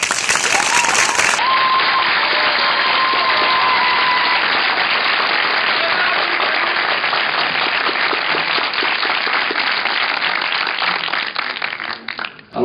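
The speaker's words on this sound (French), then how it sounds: "Je vous demande d'applaudir chaleureusement Lorenzo Chiche." A cinema audience applauds a young man named Lorenzo Chiche at a film screening event: a loud, dense, sustained wash of clapping that holds steady throughout and tapers off only at the very end.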